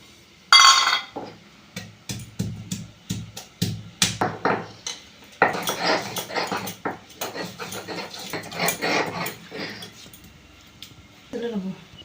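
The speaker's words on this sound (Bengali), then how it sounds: "আমি এবার আদা রসুনটা বেটে নেবো শিলেতে।" Ginger and garlic are ground by hand on a flat grinding stone for an egg curry, giving repeated scraping and knocking strokes in an uneven rhythm at close range, with short bursts of clinks and some background noise.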